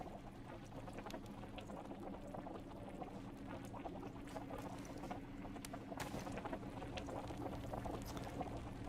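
Liquid bubbles and boils continuously as meat cooks over a fire in a survival video game, a steady dense churning simmer at moderate level with no talk.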